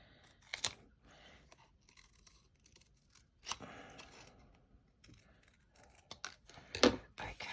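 Scissors snipping paper while trimming a page for a mini junk journal folio, a few sharp close cuts spaced out amid quiet handling and rustling.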